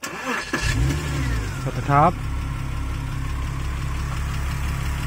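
A Porsche Cayman 987 engine cranks and catches, then settles into a steady idle with a brief rev, while a person speaks briefly near the start.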